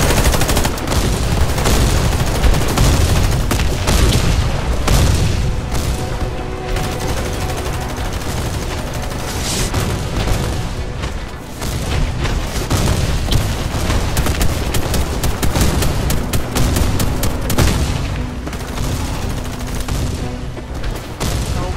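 Sustained bursts of automatic gunfire in the online shooter Warface, dense and continuous with heavy booms mixed in, loud and close throughout with no break in the firing.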